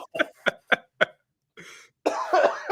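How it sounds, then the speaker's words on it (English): Four sharp coughs in a steady rhythm from a man who has been sick for weeks, then a short pause, a brief wheezy throat sound and a louder rough burst of coughing and hacking, close and alone. "This cough is going to kill me."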